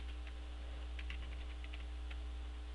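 Keys click faintly and sparsely on a computer keyboard as a tar command is typed into a CentOS Linux terminal. A steady low electrical hum runs underneath.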